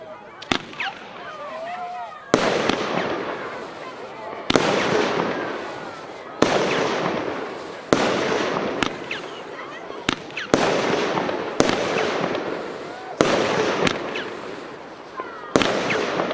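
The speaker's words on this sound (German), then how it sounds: "die Veronica, 13 Schuss Batterie, eine Neuheit aus diesem Jahr" Argento Veronica 13-shot firework battery set off at a New Year's fireworks demonstration in Meißen, firing loud sharp bursts one after another at a steady rhythm of roughly one every two seconds, each followed by crackling, with voices in the background.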